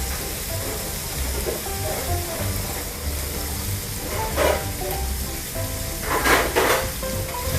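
Steady bubbling and sizzling of tofu simmering in a pan of soy sauce, gochujang and sugar, with occasional louder spitting bursts and faint background voices.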